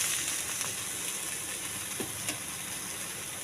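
Carrot batter pancake frying in a pan just after being flipped, a steady close sizzle and hiss with a few faint soft taps.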